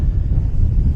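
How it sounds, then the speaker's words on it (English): Steady low wind rumble buffeting a microphone outdoors on a hill at a paragliding site, continuous and fairly loud, with no clear voices. "It's a bit windy though"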